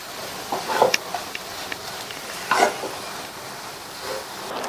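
Kozhukattai dough being stirred in a pan, with soft scraping and a few light clatters of a spoon against the pan, fairly quiet and intermittent, with no talking.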